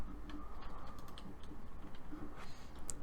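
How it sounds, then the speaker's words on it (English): Rapid, uneven keystrokes clatter on a computer keyboard, close and steady for a few seconds with no talking. "So let's type in scope."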